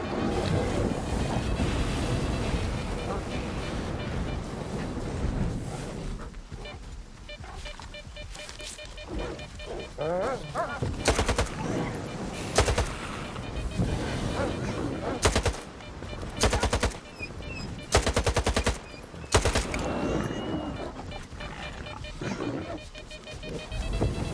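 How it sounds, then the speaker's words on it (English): AK rifle fire in S.T.A.L.K.E.R. 2: Heart of Chernobyl sounds over a watery swamp ambience. Loud bursts of automatic shots crackle in several clusters, and sloshing, wave-like noise runs underneath the whole time. "Switch over to that AK"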